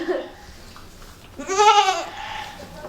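A large ewe on an Alaska homestead gives a single loud, wavering bleat in the middle, with faint human sounds and quiet farm background around it.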